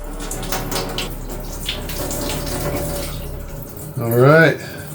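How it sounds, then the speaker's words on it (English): Water runs from a newly replaced faucet, a steady hiss of flowing water with a voice speaking over it and a brief louder burst near the end. "Let's go turn the water on."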